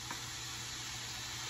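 Creamed corn sizzles softly in a cast iron skillet, a faint, steady hiss of frying heard close with no talk.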